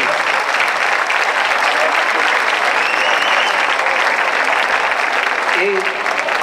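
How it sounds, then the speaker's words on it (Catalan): A festival crowd at a Festa Major proclamation applauds for Enric, loud, sustained clapping from many hands filling the whole stretch, with voices mixed into the din. "L'hem de demanar un aplaudiment per l'Enric"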